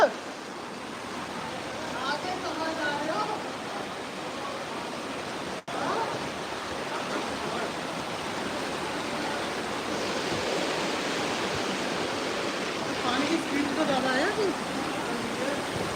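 Strong floodwater rushes through Ajnala near Amritsar as a loud, steady roar that fills the whole stretch without letup, with voices faintly mixed in.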